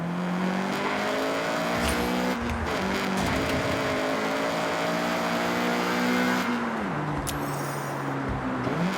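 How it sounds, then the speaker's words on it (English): A Honda CRX engine in a driving video game holds a high, steady rev, its pitch climbing through gears with a few brief drops at shifts, loud and continuous, with no talking. "get the CRX up to speed"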